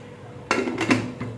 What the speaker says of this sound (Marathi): आणि कुकरचं झाकण लावून